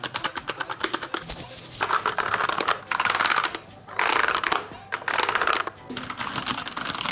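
Rapid clicky keystrokes on a mechanical keyboard, bursts of fast typing with short pauses between them, close and crisp.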